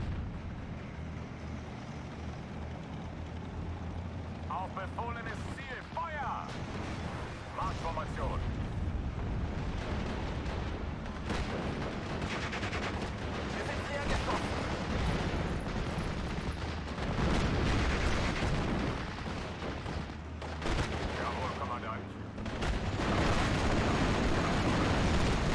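Gunfire from a battle in the WWII strategy game Steel Division: Normandy 44, aimed at a British 6-pounder anti-tank gun, comes as dense rumbling booms and blasts layered over continuous engine and battlefield noise, with a player talking over it.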